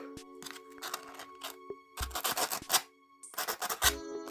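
An abrasive disc grinds at a Soviet-era can opener during restoration. It comes in short, close, raspy bursts separated by brief pauses.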